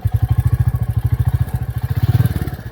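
A Royal Enfield Classic 350 motorcycle engine runs with a fast, even, thumping pulse, loud and close, alone without talk.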